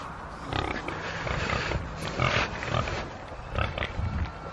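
Pigs on a farm grunting and snorting in the morning, a series of short rough grunts repeating at close range over steady background noise.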